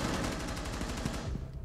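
Rapid automatic gunfire in the tactical shooter Rainbow Six, a dense continuous burst of shots that cuts off near the end, heard loud and close.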